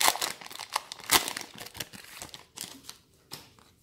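A Pokémon Forbidden Light booster pack is torn open, close and crisp, with a quick series of crinkling foil rips and rustles that slow to a few last crackles.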